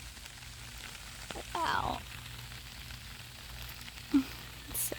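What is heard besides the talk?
rain falling in a garden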